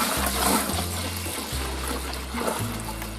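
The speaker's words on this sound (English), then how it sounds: "We're going to add cold water to get our 23 liters and also to cool down the wort" Cold water pours into homebrew beer wort in a steady close gush and trickle, with low gurgling pulses as the flow shifts, and no talk.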